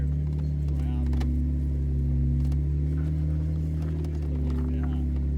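A Jeep crawls over rocks off-road, its engine holding a steady low drone throughout while tires grab and scrape in scattered bursts, with people talking over the noise.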